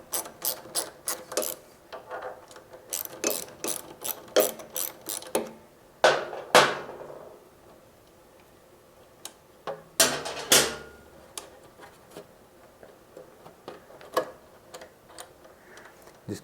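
A hand ratchet loosens the 10mm and 13mm chain tensioner nuts on a Monster Moto MM-B80 minibike, giving rapid close clicking bursts broken by short pauses and a couple of louder metallic knocks.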